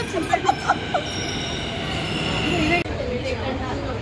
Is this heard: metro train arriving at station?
yes